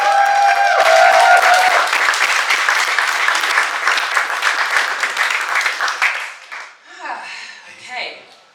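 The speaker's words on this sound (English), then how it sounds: "please put your hands together and give all your love to the wonderful Lisa" Audience at a live event breaks into loud, dense applause that holds for about six seconds, then thins and fades as a voice starts speaking near the end.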